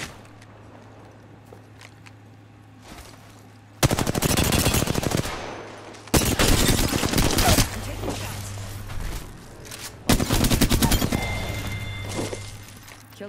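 Gunfire rings out in the battle royale video game Apex Legends, coming in three loud, rapid bursts separated by quieter stretches of low game ambience.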